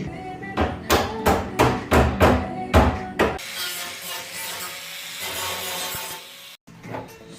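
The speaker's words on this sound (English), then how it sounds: "Hammer and dolly the edge straight." Hammer and dolly straightening the edge of a replacement car floor panel in rust repair: seven sharp metallic blows in a quick, even rhythm, close and loud, followed by a quieter grinding scrape.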